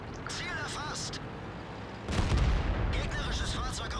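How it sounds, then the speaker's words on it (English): Artillery shell fire in the World of Tanks video game: a heavy, rumbling boom hits about halfway through and keeps rolling to the end, with a voice talking over the game sounds. "Another arty shell, another arty shell."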